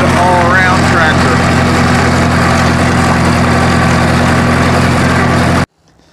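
A low, steady Minneapolis M670 LP tractor engine idle drones with people talking over it, then cuts off abruptly near the end.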